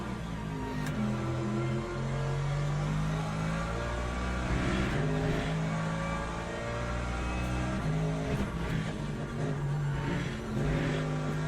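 A BMW race car in the Le Mans Ultimate racing game drones steadily at high revs, with rising and falling engine pitch through gear changes, loud and continuous without talk.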